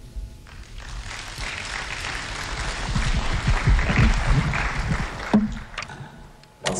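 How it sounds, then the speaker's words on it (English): At a climate investment conference, an indoor audience claps after opening remarks. The sustained applause swells and then fades, and the clapping is dense and close. "Once again, a round of applause for Joseph Murapula for his opening remarks."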